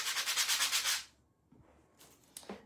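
Rhythmic scratchy strokes of sandpaper rubbing a surface for about a second, then quiet handling noises and a couple of light scrapes.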